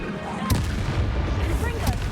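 Bombarda explosion spell in Hogwarts Legacy, heavy booming blasts over a dense rumbling game soundscape, with two sharp bursts close together.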